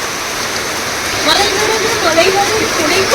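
Heavy rain beats down in a loud, continuous wash during a downpour outdoors. A voice talks briefly over the rain in the second half.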